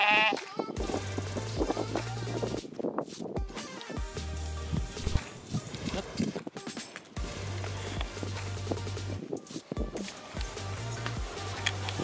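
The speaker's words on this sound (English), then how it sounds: "I'm gonna go check on my goats." Goats in a pasture bleat several times, with a golf cart nearby, their calls coming in short bursts amid rustling and footstep-like movement.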